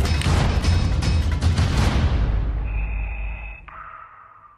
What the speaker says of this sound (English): Is that you breathing?